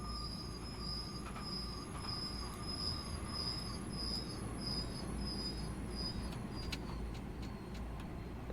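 A Long Island Railroad M3 commuter train rolls past in a railway simulation game, a sustained loud rumble of wheels on track with high metallic squealing tones and chirping insects, steady throughout with no voices.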